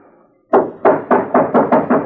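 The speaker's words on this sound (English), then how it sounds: "Open up. It's Matt Dillon." Knocking on a door in a 1959 Western radio drama: a lawman raps repeatedly, seven firm, evenly spaced knocks that start after a brief quiet and stand alone without talk.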